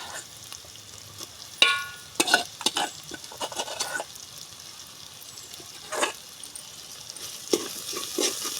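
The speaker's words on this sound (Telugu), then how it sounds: "పచ్చిరీలు అయితే వేసుకుంటున్నానండి" Raw prawns stirred in a frying pan for a mango prawn curry, with a soft steady sizzle under scattered louder scrapes and clatters of the spoon against the pan, heard close with no talking.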